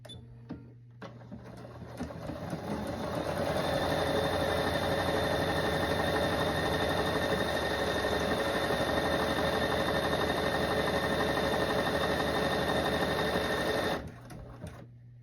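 A sewing machine runs steadily for about ten seconds while it stitches buttonholes down the front of a relaxed-fit oversized shirt. The whir is continuous and loud, starts quietly and stops abruptly near the end, with no talking.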